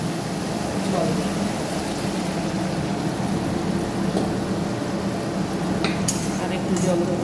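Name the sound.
water being poured into a mixer jar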